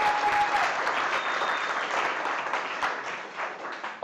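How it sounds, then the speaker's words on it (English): Dense, steady applause from an audience welcoming a chef at a cooking competition, loud and continuous throughout with no talk over it. "Give him a big round of applause."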